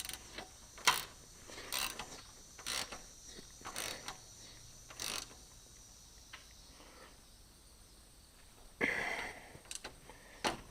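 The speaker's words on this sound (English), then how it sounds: "I forgot my little electric impact over at Dad's, so I'm using a ratchet handle" A ratchet handle tightens bolts on a flexible cattle gate outdoors, giving a string of sharp, fairly faint clicking bursts at irregular intervals over a steady insect-like background hum.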